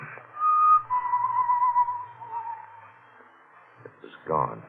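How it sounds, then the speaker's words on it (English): A single sustained whistled tone drifts through a building as a radio drama sound effect, steady and moderately loud, fading out before a brief thud. "The whistling was somewhere in the building."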